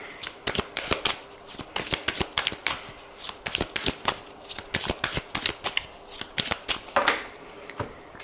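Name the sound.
shuffling and cutting a deck of oracle cards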